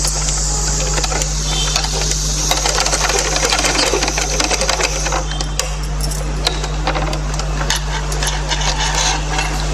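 A sewing machine stitching a baby's vest, a loud continuous mechanical whir with a steady hum and rapid ticking of the needle running unbroken throughout, close by.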